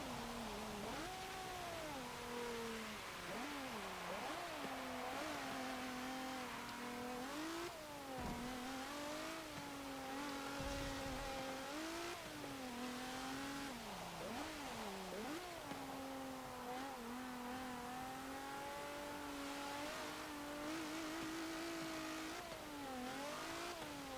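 A 1984 Peugeot 205 Turbo 16 engine in Forza Motorsport 7, revving and accelerating through repeated gear changes, its pitch climbing and dropping over a steady, loud drone with no talk.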